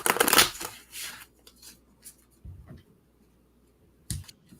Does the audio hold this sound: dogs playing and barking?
no